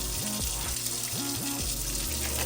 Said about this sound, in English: Salmon, give them a little wash off here.